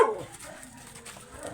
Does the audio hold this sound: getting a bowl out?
no